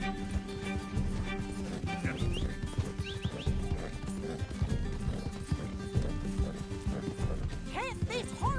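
Rhythmic hoofbeats of a galloping horse in Red Dead Redemption 2 pound over a music-filled game soundtrack, with a brief whinny near the end.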